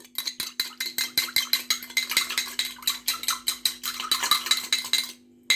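Utensils scrape and clink rapidly and rhythmically against a bowl while a vegetable mixture is stirred, like beating an omelette. The strokes are close and steady, with a short pause near the end.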